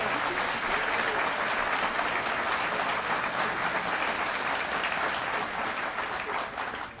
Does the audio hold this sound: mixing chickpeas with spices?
no